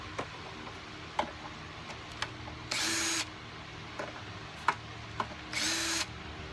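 A cordless tool loosens 10mm bolts on a Honda 225 outboard in two short whirring bursts, with light clicks and ticks in the quiet gaps between them.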